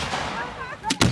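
Fireworks at a backyard show: two sharp, loud booms close together near the end, preceded by a softer crackling hiss and faint distant voices.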